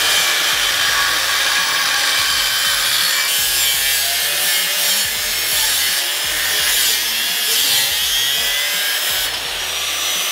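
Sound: cutting disc machine, likely angle grinder, cutting

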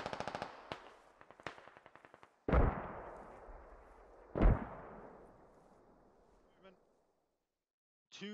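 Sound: British mortars firing in Squad video game

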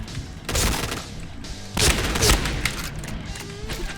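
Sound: zombie shotgun firing in Point Blank video game

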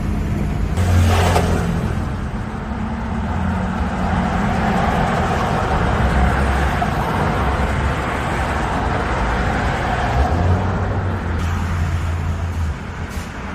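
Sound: ABS pump motor running while brake pedal pressed

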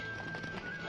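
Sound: horse galloping and neighing in video game Stronghold

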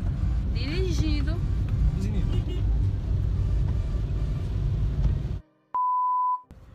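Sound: car driving uphill

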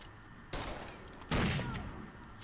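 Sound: gunfire in the video game Rainbow Six Vegas 2

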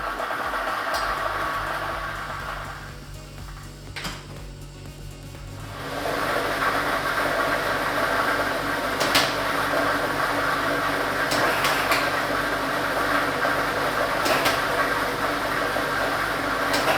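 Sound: lottery ball drawing machine running

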